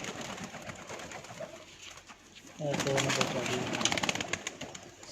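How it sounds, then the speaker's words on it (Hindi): Red-eyed golden pigeons on a rooftop coo in low, throaty calls that grow busier partway through, mixed with faint background noise. "ये भी जनाब लाल अखे गोल्डन कबूतर हैं"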